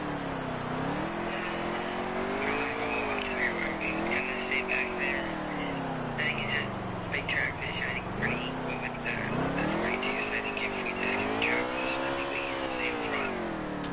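Race car engines in NASCAR Heat 3 drone steadily, their pitch rising and falling in repeated sweeps as the cars run laps, a continuous loud whine with faint crowd or track noise behind.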